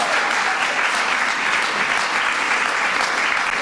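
A large audience at the White House Student Film Festival applauds the event's MCs with a dense, even wash of clapping that holds loud and steady throughout.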